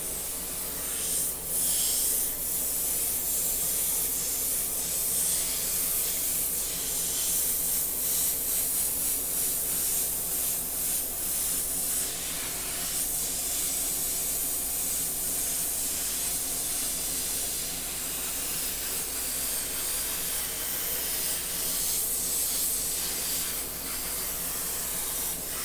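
An airbrush sprays paint with a constant, close, airy hiss that runs unbroken at steady loudness, with no talking.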